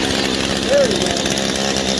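A Stihl FS 85 R weed eater's two-stroke engine runs loud and close in a steady buzzing drone, with a brief rise in pitch partway through.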